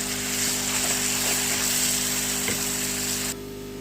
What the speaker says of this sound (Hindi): ये जो मसाला मैंने इमली के पल्प में बनाया है ये इसमें डाल दूँगी और इसको अच्छी तरह हम मिक्स कर लेंगे